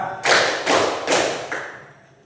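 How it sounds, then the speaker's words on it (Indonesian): A classroom of students claps together in unison, giving four sharp, loud bursts at an even, steady pace before the sound fades into room quiet. "Tepuk tangan tiga"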